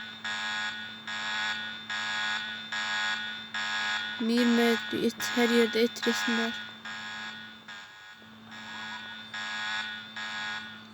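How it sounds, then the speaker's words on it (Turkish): A repeating electronic door alarm in a horror video game beeps steadily throughout, with a person briefly speaking over it midway. "Şu kapı açılıyor ama bak alarm çalıyor."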